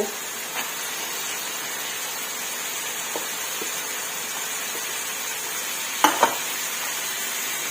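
Vegetables with snow peas stir-fried in a pan for a mixed vegetable and minced pork dish, a quiet steady sizzle with a few soft spatula scrapes and two sharper knocks near the end, no talk.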